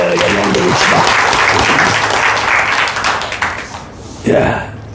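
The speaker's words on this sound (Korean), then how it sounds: "박수로 하나님께 영광 드립시다" A church congregation at Sunday worship bursts into loud, dense applause, many hands clapping together close by, which thins out near the end before a voice begins speaking.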